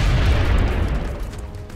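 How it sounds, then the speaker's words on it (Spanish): Grenade explosion in the video game XCOM: Long War, a loud, heavy low boom that rumbles and slowly fades over nearly two seconds. "Le ha matado la explosión, ¿habéis visto?"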